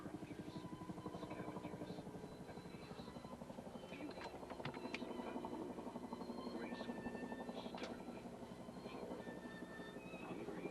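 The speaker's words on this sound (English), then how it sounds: "Hear a helicopter above, and then we got buzzed by a plane." A helicopter passes overhead above a frozen lake during ice fishing, its rotor giving a steady, even chop throughout, moderately distant and unbroken, with no talk over it.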